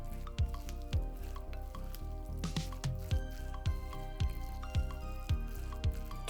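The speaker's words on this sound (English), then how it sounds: "I've added 2 tablespoons and give it a quick mix to see the consistency" A spoon quickly mixes cooked chickpeas with two tablespoons of vegan mayo for a kimchi chickpea salad. Close, wet, squishy strokes repeat in an even rhythm, about one every half second.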